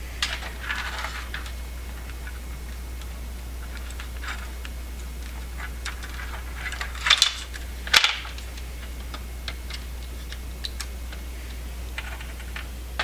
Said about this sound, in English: But for now I'm just going to cut these wires.